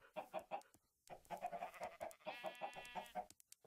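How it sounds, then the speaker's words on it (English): Chickens in the Minecraft video game cluck in a quick series of short, fairly quiet clucks with brief pauses, several birds overlapping, and no talking. "Come on, little chickens."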